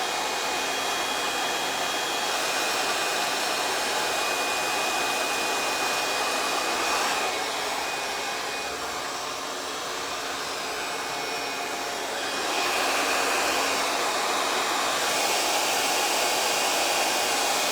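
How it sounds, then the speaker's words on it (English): A GHD Helios hair dryer blows steadily on hair with a constant whirring hiss, briefly dipping in the middle before returning to full strength. "I'm just gonna go in and blow dry it to help it dry."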